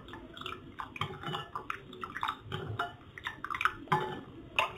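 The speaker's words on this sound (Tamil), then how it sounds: "இப்போ இது மூணையும் நல்லா கலந்து விட்டுக்கணும்." A spoon stirs sugar and salt into buttermilk in a steel vessel, making faint, irregular clinks and scrapes against the metal with soft sloshing.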